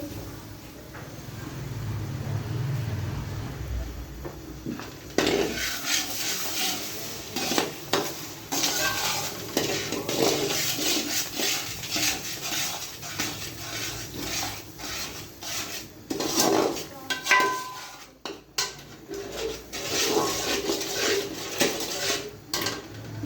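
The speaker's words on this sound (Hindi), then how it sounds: "चमचा इसमें चलाते जाना है" A spoon stirring sweet Aflatoon mixture with milk in a metal pot, with repeated scraping and clinking against the pot's sides over a continuous soft sizzle, close and steady throughout.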